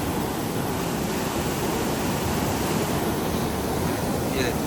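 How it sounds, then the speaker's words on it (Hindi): Fast, dangerous water rushes past close by, producing a loud, steady, unbroken roar of churning flow. "बहुत ज़्यादा स्पीड से पानी जा रहा है"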